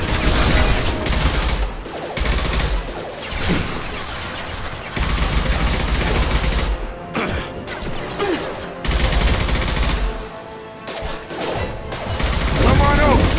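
Weapons fire in Mass Effect 2 Legendary Edition, on the way to Omega, sounds as loud bursts of gunfire and impacts in several blocks broken by short lulls.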